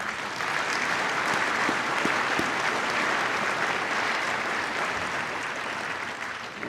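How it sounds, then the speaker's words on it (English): At the 2017 NHRA Mello Yello awards ceremony, a large audience applauds the drag racing champions with a steady, full wash of clapping that tapers slightly near the end. "Let's give them a round of applause."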